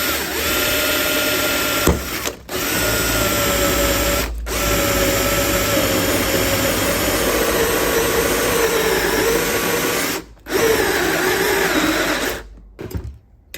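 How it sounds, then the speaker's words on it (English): Steady whirring of a power drill boring through metal, running continuously with a few short pauses, close and fairly loud. "This metal, fortunately, is relatively soft, so it's easy to drill through."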